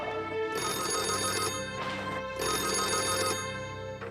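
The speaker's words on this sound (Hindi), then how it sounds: "डॉक्टर सुबोध का फोन है।" A telephone bell rings in repeated bursts, two long trills separated by a short pause, loud and close in a quiet room with no talking.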